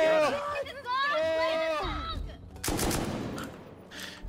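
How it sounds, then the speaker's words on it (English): Gunfire hitting players in Rust, quick cracking shots mixed with a sung voice and overlapping chatter, the shots nearby and sharp amid the talk. "Why are we getting shot?"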